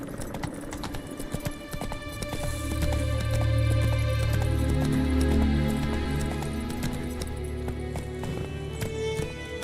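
Hooves of a horse galloping in The Witcher 3, a steady, rapid clip-clop that swells in the middle and fades toward the end, with a brief spoken word near the start.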